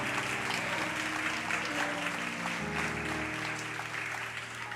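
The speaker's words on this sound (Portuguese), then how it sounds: "Você pode aplaudir o homem mais humilde que pisou nessa terra" Congregation applause during a church sermon, a soft steady patter of many hands under sustained organ-like chords, fairly distant and even throughout.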